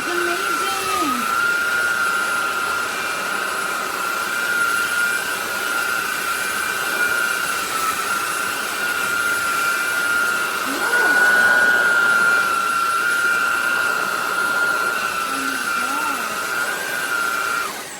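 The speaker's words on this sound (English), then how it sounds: "This is the best vacuum." A SMOTURE 600W cordless vacuum cleaner runs steadily with a high, constant whine close to the microphone, while a person talks excitedly over the motor.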